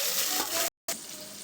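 Garlic frying in a hot pan with green chillies and onion while drumstick-leaf soup is cooked: a steady broadband sizzle, loud and close, broken by a brief silent gap before the frying resumes.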